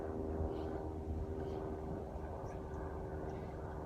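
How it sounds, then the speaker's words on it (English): An airplane drones overhead above Fort Worden State Park, a steady, broad engine rumble that holds at an even level throughout with no voices. "There's that plane again."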